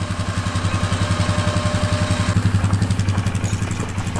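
Winch on a Polaris Sportsman 450 H.O. ATV reeling in Badland synthetic rope, a steady, close, loud motor drone with a fast rhythmic pulsing throughout and no talking.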